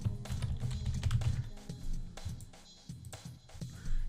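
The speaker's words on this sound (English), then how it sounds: "I'm going to go ahead and type in my name." Fingers tap out a name on a computer keyboard, a faint, uneven run of light key clicks with brief pauses between bursts.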